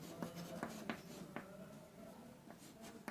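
Handwriting during a maths lesson, heard as a few short scratchy pen strokes at irregular intervals over a faint steady background hiss, with no talking.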